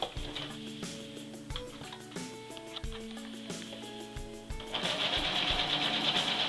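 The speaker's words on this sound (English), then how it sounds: "Having pinned our new seam line, let's sew." A sewing machine stitches a new waist seam on women's pants, a steady close mechanical chatter with a louder, faster whir in the last couple of seconds.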